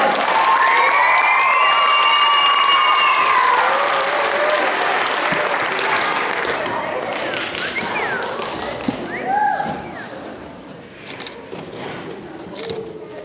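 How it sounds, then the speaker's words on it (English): An auditorium crowd at a school graduation claps loudly and steadily, with whistles and cheers over the top, the applause slowly fading toward the end. "Another big round of applause."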